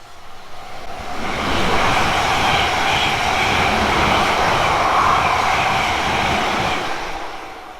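A train on the South West Main Line rushes through Winchfield station, a loud steady roar of wheels and rail noise that builds quickly, holds for several seconds, then eases slightly at the end.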